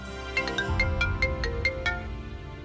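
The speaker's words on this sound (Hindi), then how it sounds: "भाई कुहू अपना फोन नहीं उठा रही है" A mobile phone ringtone plays unanswered, with a bright melodic pattern of rapid repeated tones. It rings loud and close, with no talking over it.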